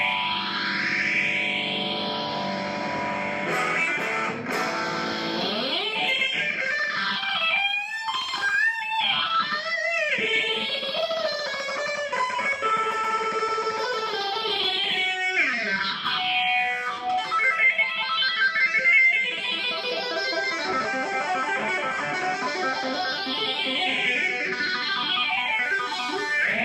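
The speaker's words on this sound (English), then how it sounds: "if you throw some distortion, because distortion is magic with phaser, you get your Van Halen kind of stuff" Electric guitar run through a Mu-Tron Bi-Phase phaser with distortion, swirling sweeps rising and falling continuously over sustained, saturated chords and lead notes, loud and steady with no voices.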